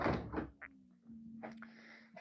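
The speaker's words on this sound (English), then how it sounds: "when you open the door and it's not being used for a while, you hear that fuel pump prime" An Audi TT car door opens with a couple of soft clunks, followed by a steady low electric hum from the fuel pump priming after the car has sat unused, heard close and quiet.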